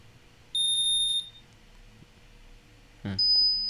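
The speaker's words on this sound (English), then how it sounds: "It's got a beeping sound." A Pavlok habit-training wristband gives two short, high electronic beeps, one after the other with a pause between, clear and close in an otherwise quiet room.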